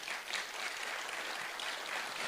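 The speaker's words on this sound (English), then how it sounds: "Can we give them now a round of applause?" Steady crowd applause at an awards ceremony, a dense wash of clapping hands that holds at an even level throughout, fairly distant and without voices.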